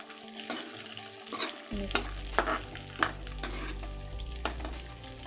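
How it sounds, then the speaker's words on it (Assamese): Coarsely chopped onions hit hot oil in a pan and start frying, a steady sizzle breaking out and continuing beneath sharp scraping and stirring strokes at an uneven rhythm, fairly close. "এইখিনি অকণ বেছি ফ্ৰাই নকৰোঁ, অলপমান ফ্ৰাই কৰি হালকা পাতলা।"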